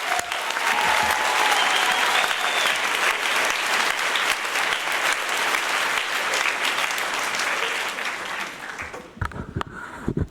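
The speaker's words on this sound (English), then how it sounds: "One last round of applause for the Hedgehogs of 2019." An audience gives the Hedgehogs of 2019 a sustained round of applause in a hall, dense and steady, then it tapers off and a few scattered claps and noises follow near the end.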